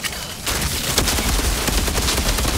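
Rapid shotgun blasts in the sci-fi shooter Outriders, a dense run of loud, overlapping bursts that keeps up steadily after a brief quieter opening.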